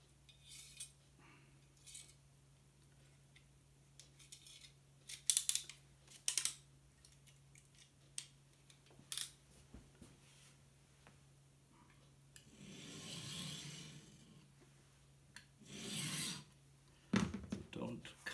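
Craft blade slicing through printmaking paper, a series of short dry scraping strokes that come and go, with a longer rougher rasp near the end as the sheet is cut and torn.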